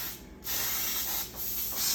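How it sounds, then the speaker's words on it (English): Several bursts of aerosol cooking spray hiss close up onto a loaf pan, broad and airy, with short pauses between the sprays. "spray our loaf pan, make sure that our bread does not stick."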